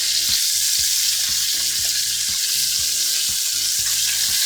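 Vegetables frying in rendered beef fat left from browning short ribs, a loud, dense, continuous sizzle close up with faint rhythmic ticking of the pan underneath.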